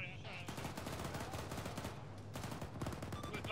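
Rapid, overlapping gunfire crackles through a firefight in the military game Arma 3 as a squad pushes out of a town, with dense bursts and scattered shots that keep going without a break for several seconds.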